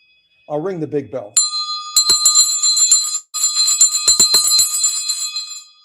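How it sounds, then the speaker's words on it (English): A big bell is rung in quick repeated strikes, its bright metallic ring sustaining and overlapping in two bursts just after a short spoken remark close by. "I'll ring the big bell."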